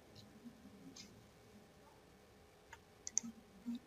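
A computer mouse is right-clicked in a quiet room: a couple of sharp, faint clicks near the end over a low, steady background hum.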